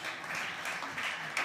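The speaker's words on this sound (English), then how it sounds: "Big applause, Laura." Brief, faint audience applause at a startup conference stage session, an even wash of distant clapping with no voices over it.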